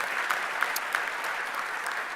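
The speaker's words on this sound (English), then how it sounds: "how about a round of applause for not just those who served us today, but the farmers that helped put food on our lunch plates today" An audience at a lunch event breaks into applause, a dense, steady patter of many hands clapping together for the whole stretch, fairly close and even in loudness.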